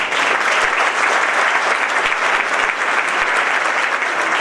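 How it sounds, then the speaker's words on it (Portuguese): An audience applauding at a lecture event for an insurance industry union's centenary, a dense, loud, steady clapping that lasts throughout. "Vamos aplaudir."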